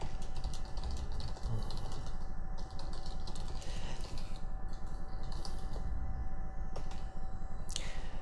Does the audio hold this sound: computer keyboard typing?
yes